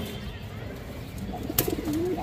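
Silver Bagha pigeons cooing in a loft, soft low coos under a faint background murmur, with a brief clatter and a rising call near the end.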